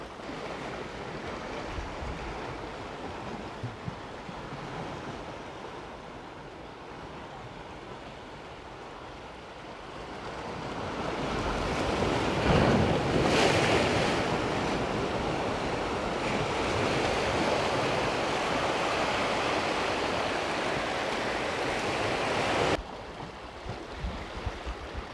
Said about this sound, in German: Schlagen die Wellen ein bisschen unten ran.